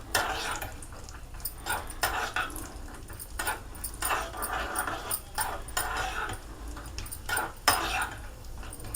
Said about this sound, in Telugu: కొంచెం కలుపుకుంటూ ఉండాలండి, లేకపోతే మాడిపోతాయి.